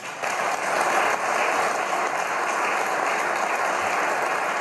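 Audience applause at a political party manifesto launch, a dense sustained wash of clapping from a large crowd, steady and loud throughout without voices breaking through.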